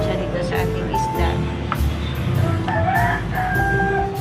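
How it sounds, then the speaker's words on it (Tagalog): A neighbour's chicken crows in repeated drawn-out calls, clearly heard over steady background noise and a nearby voice. "Sobrang ingay ng manok ng kapitbahay."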